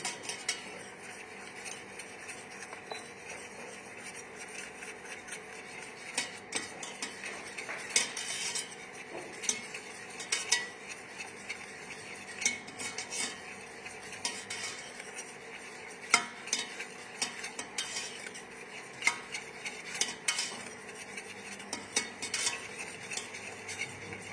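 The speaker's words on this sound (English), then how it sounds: "We whisk the cream constantly, making sure that nothing sticks to the bottom of the pan" A whisk clinks and scrapes rhythmically against a pan while cream is stirred constantly, with steady close metallic taps and a soft underlying sizzle throughout.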